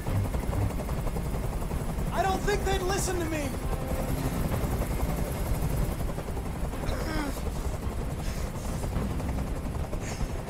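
Helicopter hovering in the video game Detroit: Become Human, a constant low rotor drone throughout as someone speaks and other voices come in over it.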